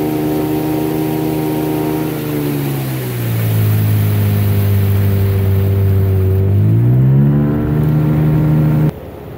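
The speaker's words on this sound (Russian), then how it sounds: "Можно идти нормально на моторе." An outboard motor drives a boat along a widening river on a fishing and rafting trip, a loud, close engine drone whose pitch sinks, holds, then rises again before cutting off near the end.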